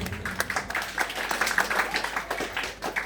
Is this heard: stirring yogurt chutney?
no